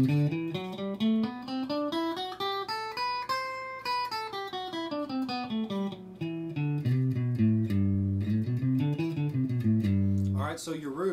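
A guitar plays a major scale pattern, with single notes stepping steadily up and then back down in an even rhythm, clear and close.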